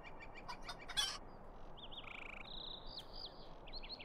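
Soft clucks and chirpy chicken calls from a farm in The Lord of the Rings Online, a few scattered tones over a steady ambient bed, fairly quiet and with no talking.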